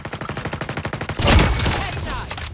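Shotgun fire in Call of Duty Mobile: a rapid run of evenly spaced loud blasts, then a bigger burst and rumbling explosion-like wash of game sound.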